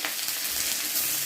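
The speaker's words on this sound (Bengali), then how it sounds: "কড়াই বসিয়েছি, কড়াইতে দিয়েছি 3টে শুকনো লঙ্কা, দিয়েছি 5 ফোড়ন। এখন দেবো পেঁয়াজ কুচানো।" Chopped onion hitting hot oil in a wok with three dried red chillies and five-spice seeds, a steady close sizzle and crackle of frying that runs evenly throughout without any voices.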